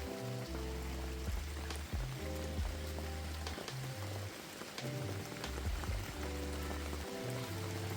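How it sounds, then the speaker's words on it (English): Rain falling outdoors at a lakeside waterfront home in Canyon Lake, a steady soft patter of drops on surfaces under a low repeating musical bed, no talk. "It's starting to rain on me"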